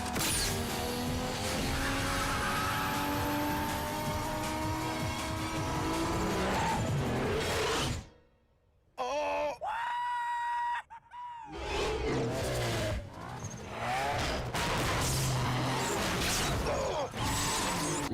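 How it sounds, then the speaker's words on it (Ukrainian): An Audi A4 B9 with a 252-horsepower two-litre turbo engine surges hard on automatic gearbox kickdown, rising in pitch as it revs up, pauses briefly during a gear change, then pulls strongly again, loud and close. "Якщо нам потрібно кікдаун якийсь зробити, ось так вона робить."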